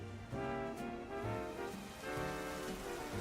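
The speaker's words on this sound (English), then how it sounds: "Rain, it's finally here." Rain falls in the Pokemon Legends Z-A video game, a steady, even hiss of drops on surfaces under a faint looping musical tone, no speech.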